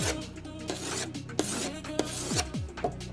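A hand stone rasps back and forth along the steel edges of a ski during tuning, in short rubbing strokes with a few sharper scrapes, close and steady with no talking.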